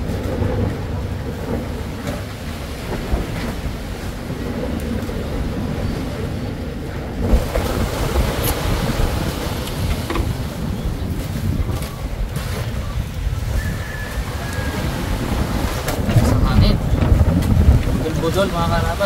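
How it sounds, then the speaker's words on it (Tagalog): Strong wind at sea buffeting a boat, a constant loud roar and rumble with gusty bursts and crackling mic buffeting throughout, with faint voices mixed in the background. "Tingnan niyo kung gano'ng kalakas ng hangin."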